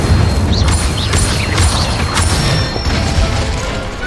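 Video-game wand spells strike a training dummy in a loud, dense barrage of magical bursts, booms and crackling impacts, with whooshing sweeps rising over a heavy rumbling bed.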